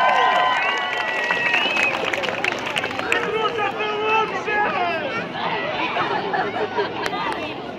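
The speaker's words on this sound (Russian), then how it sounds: "Еще раз бурные аплодисменты молодежному движению «Звезда»" A crowd at an outdoor Holi colour festival flashmob in Bendery, 2018, cheers and shouts amid loud overlapping chatter, with scattered clapping mixed into the continuous hubbub.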